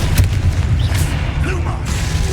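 A Confringo spell explosion in the video game Hogwarts Legacy rumbles as a deep, continuous boom with low thudding energy, loud and close, while a voice speaks briefly over it.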